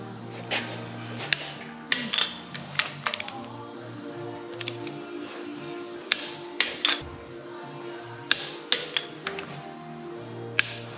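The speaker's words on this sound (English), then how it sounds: "Now torquing them to 59 Newton meters." A torque wrench tightening bolts on a rebuilt CAT 226b skid steer engine: scattered sharp metallic clicks and ratcheting ticks in small irregular bursts, close and fairly quiet, with faint handling noise between them.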